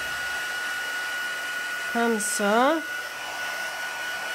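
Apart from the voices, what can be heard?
heat tool drying paper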